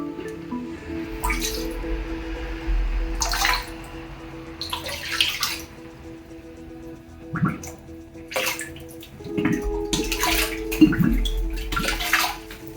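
Water pouring into a frog tank over gravel, a steady splashing and bubbling fill with wet drips and squishy bursts rising and falling, close up and continuous with no talking.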